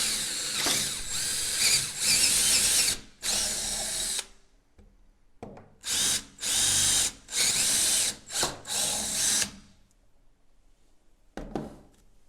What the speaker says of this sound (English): So to begin, I'm going to drill both of my holes just to get started.